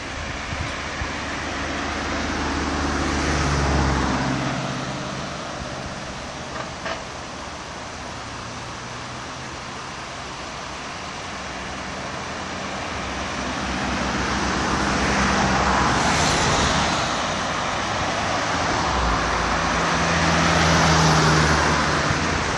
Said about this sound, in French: Je regarde vers le port et les voitures qui arrivent.